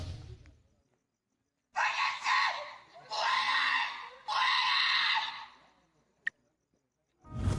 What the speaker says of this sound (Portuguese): Uma gritaria tenebrosa e feminina era emitida de uma propriedade abandonada.